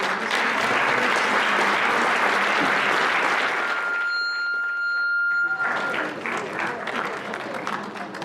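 School assembly audience at a Hall of Fame induction in a high school gym applauding loudly and continuously, then a brief near-silent lull with a tone before clapping and crowd noise resume.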